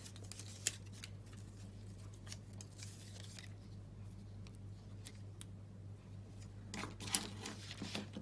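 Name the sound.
scissors cutting ribbon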